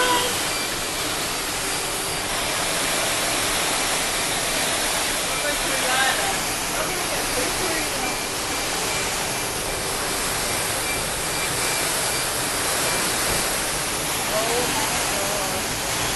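Floodwater from heavy rain pouring down escalators in Dubai Mall: a loud, continuous rushing roar of cascading water, steady and unbroken from start to finish.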